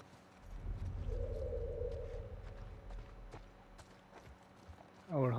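Horse hooves clip-clopping in the video game The Last of Us Part II, a soft walking rhythm of scattered hoof hits under a low rumble, with a louder burst and a voice at the very end.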